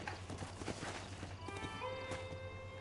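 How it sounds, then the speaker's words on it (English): A horse arrives in the Red Dead Redemption video game, hooves clip-clopping at a steady pace with a whinny, heard over a constant low game background. "Whistle for my own horse."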